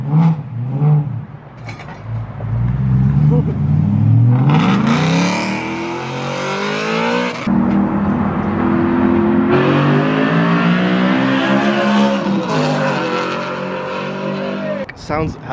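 A BMW E90 M3 V8 with primary and secondary cats and resonator deleted revs up loudly and repeatedly, rising and falling through long climbing pulls close by, with people talking over it.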